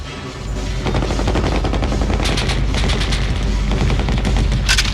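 Gunfire outside in the video game 8-Man After, a loud, dense rattle of rapid automatic shots over a heavy low rumble, continuous for several seconds with no talking.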